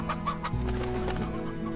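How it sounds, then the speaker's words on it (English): Chickens clucking in the video game Slime Rancher, a few quick, close clucks followed by a steady, low game tone underneath. "Chickens, some used to be chickens."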